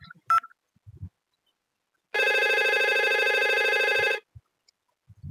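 An IP phone at extension 222 rings with an incoming call on a router-and-switch test network: one steady electronic ring tone lasting about two seconds, loud and clear, with faint handling clicks before and after.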